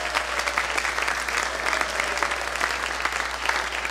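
An audience at a church service applauds steadily, the dense clapping loud and continuous throughout, with no voices rising above it.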